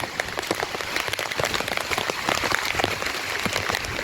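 Heavy monsoon rain pours continuously in the Girnar hills, a dense close crackling patter with no pauses.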